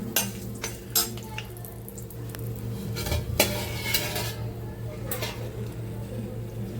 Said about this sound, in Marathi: आता ह्याच तेलात आपण खडे मसाले घालणार आहोत